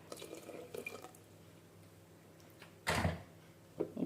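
Rinse water from a mixer grinder jar poured into a pot of Kerala-style moru curry, giving a few short splashing, dripping bursts with a louder pour near the end, close by and without talk.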